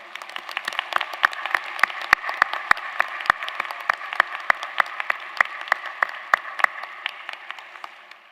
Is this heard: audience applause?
yes